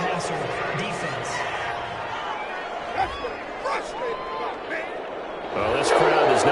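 Stadium crowd noise in a football video game reacting to a roughing-the-passer penalty, a steady roar of massed voices that swells louder near the end, with commentator speech over it.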